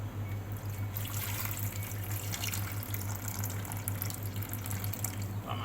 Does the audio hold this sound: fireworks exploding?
no